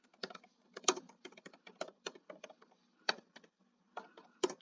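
Close, crisp keystrokes on a computer keyboard as a document name is typed, coming in quick irregular clusters separated by short silent gaps, with nothing else audible.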